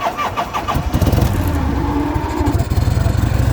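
A Harley-Davidson FLH motorcycle engine with the choke on cranks and fires up close by, settling into a loud, lumpy, rhythmic idle.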